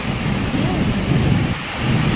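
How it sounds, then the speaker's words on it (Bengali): Heavy first monsoon rain pours steadily in Kolkata with low rolling thunder rumbling underneath, loud and continuous throughout. "এখন প্রথম বৃষ্টি কলকাতার প্রথম বৃষ্টি তো ভীষণ মজা লাগছে"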